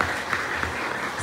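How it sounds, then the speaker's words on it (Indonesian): Audience applause at an elementary school gathering in Cilegon, a short burst of dense clapping at moderate loudness. "Tepuk tangan semuanya."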